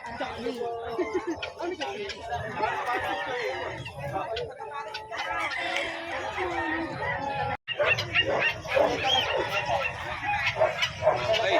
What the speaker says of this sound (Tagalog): Kumara ng aso.